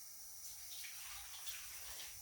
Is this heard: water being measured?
yes